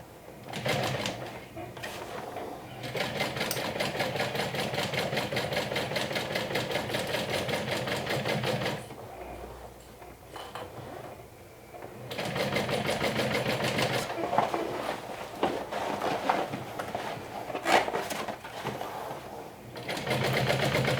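A sewing machine stitches a bag seam in long continuous runs, its buzzing hum broken by a few pauses and restarts, with faint speech in the background.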